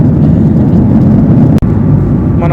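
A jet airliner cabin cruising at 40,000 feet fills the air with a loud, steady engine roar and whooshing airflow, broken only by one brief cut.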